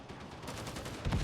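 An AK rifle fires in rapid automatic bursts in the game Warhammer 40K: Darktide, a quick rattling string of shots at moderate volume.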